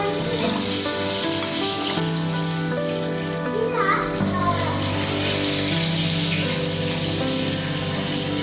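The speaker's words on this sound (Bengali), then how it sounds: "মাছের তেলে দেবো বলে এই পেঁয়াজগুলো কাটছি, মাছের তেলে দেবো, ভাজা ভাজা করবো, ভেজে নিলাম।" Chopped onions fry in fish oil for a rui fish curry with coriander, giving a steady, close, continuous sizzle from start to finish.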